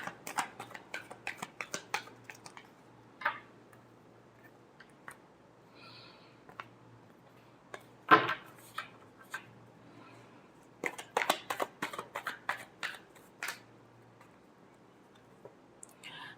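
Tarot cards being shuffled, with soft riffling and flicking card snaps coming in scattered bursts, quiet and close, plus a few sharper slaps of cards against a surface.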